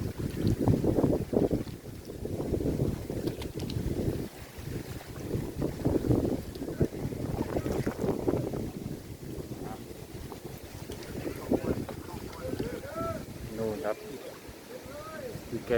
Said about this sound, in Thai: ดูครับลม